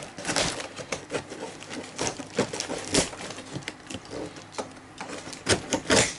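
A sharp knife slices and scrapes through packing tape on a shipping box holding a Concord XC-002 key machine: irregular rasping bursts and crackles, close and fairly loud, with no talking.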